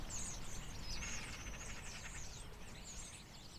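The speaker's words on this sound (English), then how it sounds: "That's some of our local starlings." A flock of about thirty local starlings chatters from a hedgerow perch in winter, a faint, distant jumble of squeaky chirps and whistles over steady outdoor background noise, with no voices.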